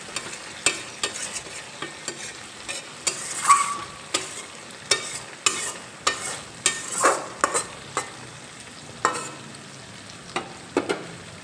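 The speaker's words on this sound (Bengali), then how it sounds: "এখন এর মধ্যে আমি ভেজে রাখা ফুলকপি আর আলু দিয়ে দেব" Fried cauliflower and potato stirred into a sizzling spice masala in a pan, with a steady series of short, sharp scraping strokes of a utensil over continuous soft frying.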